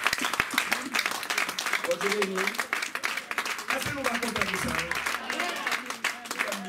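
Sustained applause and clapping from a church congregation fill the room, dense and steady throughout, while someone speaks over it and voices murmur beneath.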